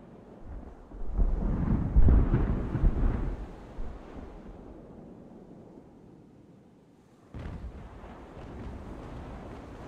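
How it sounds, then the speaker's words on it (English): Sailing warships fire a broadside of round shot in an age-of-sail naval battle game, a rolling burst of deep booming cannon fire that swells and fades, then one more thud follows over a low ambient rumble. "Let's get a broadside of ball in."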